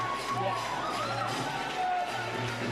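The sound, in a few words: crowd cheering at padel league final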